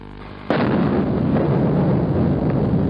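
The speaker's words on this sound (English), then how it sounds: "they blew these things up with anti-aircraft guns and explosives" Taliban demolition of giant Buddha statues with anti-aircraft guns and explosives: one sudden heavy blast, then a long, loud, rumbling roar of debris and echo that fills the rest of the moment, with no talking.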